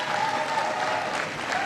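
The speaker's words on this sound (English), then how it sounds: "Give Lucille a big round of applause." An audience at a community college event gives a big round of applause, steady, dense clapping filling the room without a break.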